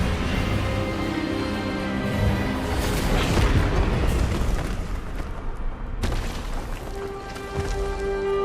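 A heavy, rumbling magical blast from the Expelliarmus disarming spell in the video game Hogwarts Legacy, sustained and booming with a sharp burst partway through, loud and close with no voices.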